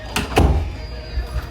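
A door opens or shuts indoors with two close thuds and a rattle, then quieter handling sounds, all fairly loud and near.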